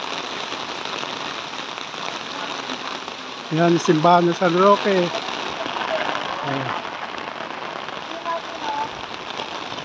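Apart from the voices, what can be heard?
heavy rain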